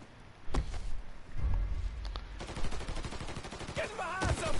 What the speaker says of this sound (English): Shoot him, for fuck's sake.